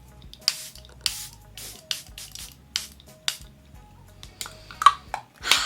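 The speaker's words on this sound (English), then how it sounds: "The very last step is to set. I'm using the Airbrush Flawless Setting Spray" Repeated short hissing sprays from a Charlotte Tilbury Airbrush Flawless Setting Spray pump bottle, about eight bursts in a loose rhythm, close and fairly quiet.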